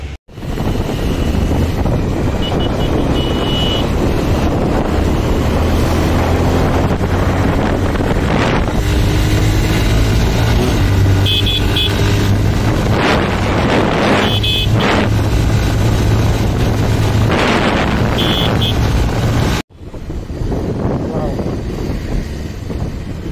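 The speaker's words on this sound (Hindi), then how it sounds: "बड़े दिनों के बाद बाइक 100+ हुई" Motorcycle riding at over 100 km/h, a loud, continuous roar of wind rush and engine drone, with brief faint speech, cutting off abruptly near the end.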